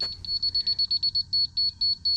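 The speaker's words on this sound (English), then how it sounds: "So the slow beeps mean we're too low." A laser level receiver gives a steady series of short, high electronic beeps at an even, fairly quick pace, close up with faint background hum.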